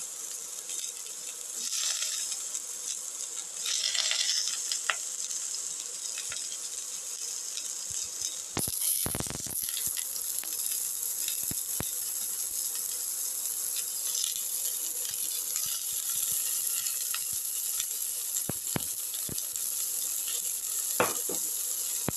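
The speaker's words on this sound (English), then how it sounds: "let the oil get heated. Put in the shallot" Shallots fry in about 10 ml of hot oil in a pan, giving a steady close sizzle throughout with a few clinks and stirring knocks, with no talk.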